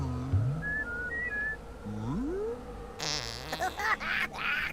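A comic fart sound effect plays in a video game, several sliding, whistle-like tones rising and falling, followed by a burst of rougher, buzzy noise. The sounds are close and fairly loud, with no speech over them.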